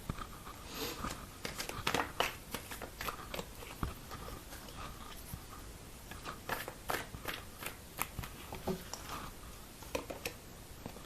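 Tarot cards being shuffled by hand in a quiet room, a run of soft papery riffles and flicks with irregular bursts, close and alone without talk.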